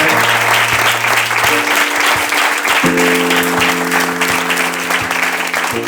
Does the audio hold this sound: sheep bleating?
no